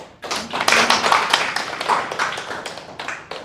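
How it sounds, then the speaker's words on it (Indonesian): Classroom applause from a group of students, a dense burst of hand clapping that rises quickly and continues steadily for several seconds without any talk over it. "Oke, kita kasih aplaus ya"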